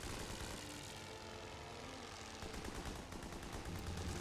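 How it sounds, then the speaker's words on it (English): Bomber aircraft droning overhead with rattling gunfire in a World War I strategy game; a continuous propeller hum with bursts of machine-gun fire, the firing growing sharper and more rhythmic toward the end. "Shoot down the bombers"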